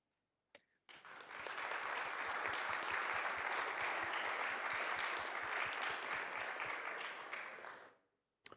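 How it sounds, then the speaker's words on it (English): Conference audience clapping, starting abruptly after a brief knock, building to a full, even round of applause that holds for several seconds, then fades out near the end. "So did you hear the clapping?"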